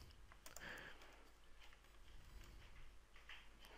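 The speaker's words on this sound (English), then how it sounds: "so let's press control enter once again" Several soft key presses on a computer keyboard, light scattered clicks over a quiet room hum, no talking.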